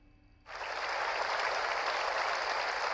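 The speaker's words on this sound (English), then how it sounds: "That is an applause sound effect that I have." An applause sound effect in a video game starts abruptly after a quiet half second, then holds as dense, even crowd clapping at a constant level to the end.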